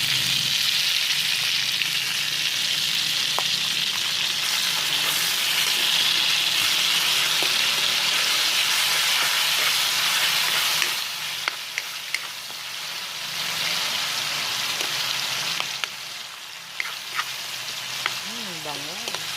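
Pork sizzles loudly and steadily in a pan with bagoong shrimp paste, a dense hiss that eases a little partway through, with a few utensil scrapes near the end.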